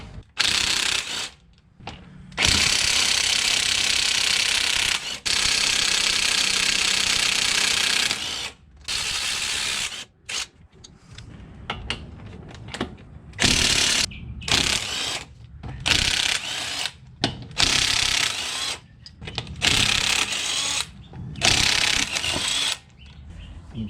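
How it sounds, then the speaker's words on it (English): An impact or ratchet wrench zips and rattles in quick bursts as car wheel lug nuts come off, with short loud runs broken by gaps and clicking mechanical chatter, and no talk. "the cool little quick montage of me taking off the lug nuts"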